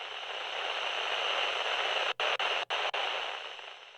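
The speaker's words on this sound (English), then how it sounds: "At first, the only noise I could hear was static." Loud, steady hiss of static from a played recording, filling the space evenly, broken by a few abrupt brief dropouts near the middle before fading slightly at the end.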